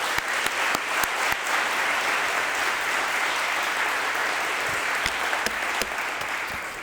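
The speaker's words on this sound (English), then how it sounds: "Let's give Scott a round of applause." Audience applause for a departing city contributor at a city address in Kyle, a steady, full burst of clapping from a crowd filling the hall, sustained at even loudness for about seven seconds with no talking.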